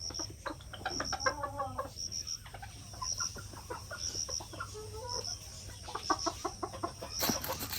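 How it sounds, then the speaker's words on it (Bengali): White village chickens cluck and call in short repeated bursts close by, with soft background hiss and a faint insect-like drone throughout, and no talking. "দেন মুরগিগুলো কত সুন্দর, সাদা টুপুর ঘুরে"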